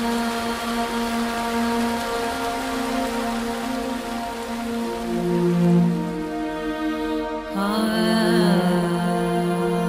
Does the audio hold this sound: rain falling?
yes